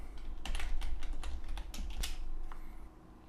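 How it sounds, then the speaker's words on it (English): Fast typing on a computer keyboard, a quick run of crisp close keystrokes over a low steady hum, tapering off near the end. "I put my cursor in my first header cell and I type in header 1."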